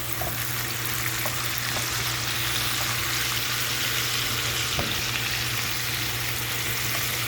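Minced garlic sautéing in a pan for bacon jalapeño cornbread gives a steady, close frying sizzle with faint stirring clicks, continuous and even throughout with no talking.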